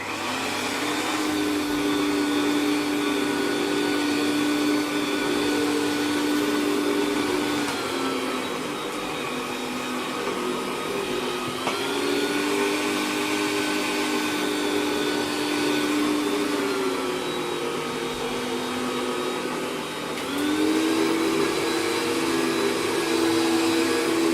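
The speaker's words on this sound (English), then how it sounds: "we'll just clean this up with a proper hoover, eh Charlie?" AEG UltraCaptic vacuum cleaner running steadily and loudly indoors, a constant whining motor drone with slight pitch dips as it is moved across the floor.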